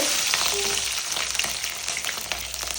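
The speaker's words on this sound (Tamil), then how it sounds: "வெந்தயம் பொரிஞ்சிச்சு கடுகு போடலாம் அடுத்த உளுத்தம் பருப்பு பூண்டு" Fenugreek seeds, mustard seeds and garlic fry in hot oil for a tamarind okra curry, giving a steady, close crackling sizzle with scattered spitting pops throughout.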